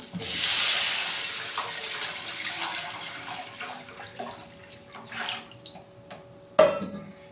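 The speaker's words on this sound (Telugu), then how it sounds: "సో నేను వాటర్ అనేది అయితే యాడ్ చేస్తున్నా." Water gushes into a pot, loud at first then thinning to trickles and splashes, ending with a sharp metallic clank.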